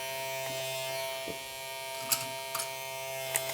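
Electric hair clippers fitted with a 1.5 guard buzz steadily and quietly through a kids' taper haircut, with a constant motor hum and a few faint snips of contact against hair.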